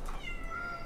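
A cat meows once, a single drawn-out tonal cry in an indoor space, fairly close and clear with no talk over it.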